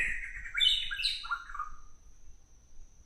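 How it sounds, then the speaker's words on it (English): Unidentified bird calling outdoors on Maui, heard as a short series of bright chirps and whistled notes that slide downward, fairly close, with faint background rumble and no talking. "What kind of bird is that? I don't think that's your standard myna bird."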